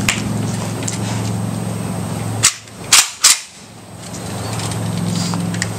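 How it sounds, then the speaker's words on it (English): An AK47 rifle fires three sharp, loud gunshots downrange outdoors, the first on its own and the last two close together, each cracking over a steady background hum. "we're gonna crack a few more rounds off downrange here"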